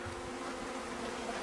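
Honey bees from a package swarm around a Langstroth hive, making a steady, close, continuous buzz that holds even throughout with no voices.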